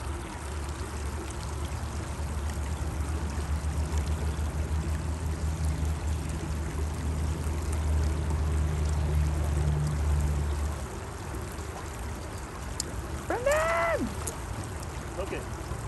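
Water gushes steadily out of a saltwater pipeline into the sea, a continuous pouring and splashing rush heard close by that fades after about ten seconds, with someone talking intermittently over it.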